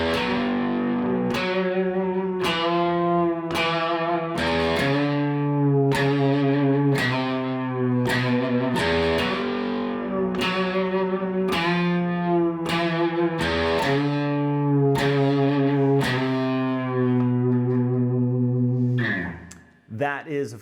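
A riff on electric guitar with effects: a repeating descending line of sustained notes cut by regular sharp stabbed accents, loud and steady for about twenty seconds before fading out.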